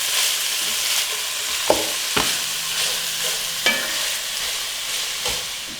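Mint leaves and other fresh greens sauté in a hot pan, giving a constant bright sizzle with a few distinct scraping stirs of a spatula standing out close by.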